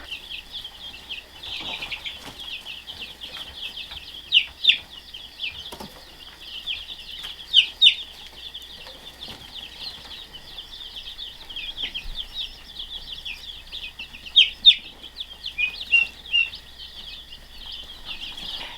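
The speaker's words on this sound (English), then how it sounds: "Yep, I got 50 more hens. These ones are Rhode Island Reds and Buff Orpingtons." A flock of about fifty hens, Rhode Island Reds and Buff Orpingtons, fills a barn with a dense, steady murmur of clucks and chatter, with occasional louder calls and bumps standing out.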